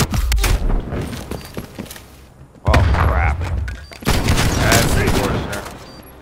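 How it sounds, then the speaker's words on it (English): A flashbang grenade in the video game Call of Duty Black Ops Cold War goes off with a sudden loud bang, and another burst follows amid the noise of gunfire and game action. Players talk over it. "Flashbang going out."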